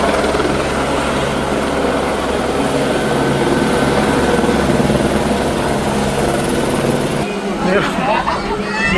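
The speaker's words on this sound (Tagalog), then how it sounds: "Merong helicopter sa taas." A loud helicopter thunders steadily overhead a dense crowd at the Nazareno 2025 procession, with a pulsing rotor roar. The roar drops off abruptly near the end as scattered voices come through.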